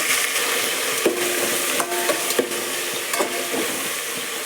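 Green chilies, coriander and mint fry in a pan for mutton curry, a soft steady sizzle broken by several sharp clacks of a spoon against the pan.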